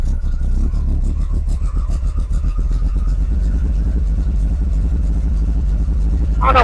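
A Chevrolet El Camino G-body V8 idles with the idle raised, a steady, loud, close low rumble with a slight uneven lope throughout.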